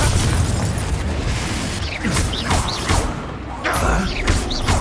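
Confringo blasting spell explosions in Hogwarts Legacy, loud booming bursts and crashing impacts layered over a dense, continuous battle din with whooshing spell effects.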